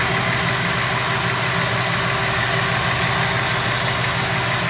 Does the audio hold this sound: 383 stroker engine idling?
yes